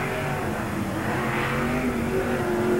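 The 72 race car, a NASCAR Busch All Star Tour entry, roars around Tri-City Speedway during qualifying, a steady loud engine drone that swells slightly as it laps the track.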